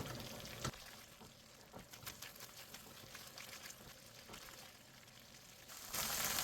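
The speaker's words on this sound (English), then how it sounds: "saute this until the oil separates" Chilli yuca sautéing in hot oil gives a soft, steady sizzle with small crackles and a few clicks, quiet and close, ending in a brief louder wash of frying noise.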